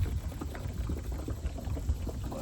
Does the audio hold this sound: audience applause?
no